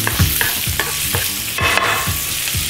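Beef sears in a hot pan for beef bourguignon, giving a loud, continuous sizzle. Rhythmic stirring and scraping strokes break it roughly every quarter second, close up, and no one talks.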